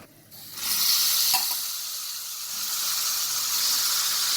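Goat meat goes into a hot pot for Jamaican-style curry goat, setting off a sudden loud, steady sizzle that hisses on after a brief stir clatter.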